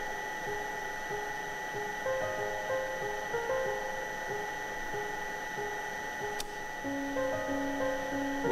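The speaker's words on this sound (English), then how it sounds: "In 20 seconds, the relay of the inverter's auxiliary pump will close, connected. Auxiliary pump will run." Auxiliary water pump on an inverter-controlled constant pressure water supply system running with a steady electrical whine and tonal hum, with a brief click and a shift in pitch as the motor changes speed, heard alone at moderate level.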